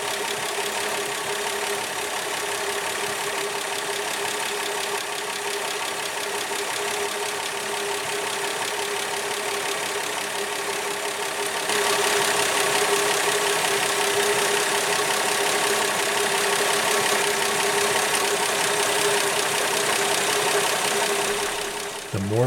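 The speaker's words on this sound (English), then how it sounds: "The trick was to get the engine idling" A Plymouth Valiant engine idles very slowly after a valve adjustment, giving a steady, even running drone with a constant low hum that swells slightly louder partway through and continues without talk.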